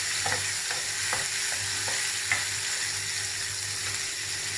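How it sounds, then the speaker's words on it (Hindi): Masala spices fry in oil with a steady, close sizzle, while a spoon scrapes and taps the pan in a loose, repeated rhythm. "उसी ऑयल में इसको मसाले को हम लोगों ने फ्राई करना है"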